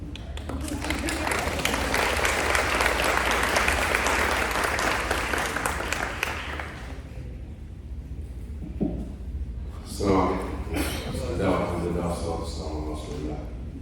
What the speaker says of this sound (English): You can respond to her, you can clap.